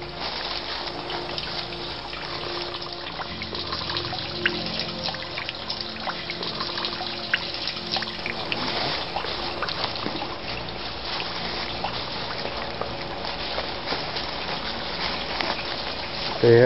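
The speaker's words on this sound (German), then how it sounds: "Ja, das ist schön plätschern." Continuous babbling and trickling of water from the small spring of the Rehbach in the Stumpfwald forest, steady and close, with no voices.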